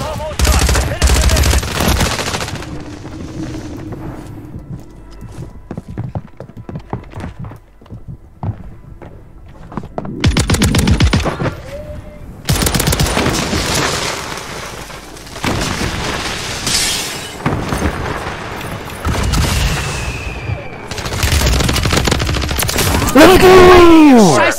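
Call of Duty gunfire in a ranked multiplayer match, with loud bursts of automatic fire and heavy booms coming in dense clusters, separated by quieter stretches, with brief game voice chatter mixed in.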